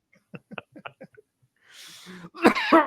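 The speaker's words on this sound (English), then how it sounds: "You got me coughing." Several quiet, short sounds come first, then a burst of harsh coughing, close and loud, toward the end.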